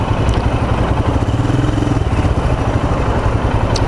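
A 2018 Royal Enfield Himalayan adventure motorcycle runs steadily under way, its single-cylinder engine thrumming loud and close with a constant low rumble and wind rush, no talk over it.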